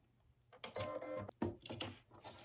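A sewing machine stitches a snow globe ornament design in short bursts of quiet, rapid mechanical clatter and whir, close and faint, with brief pauses between runs.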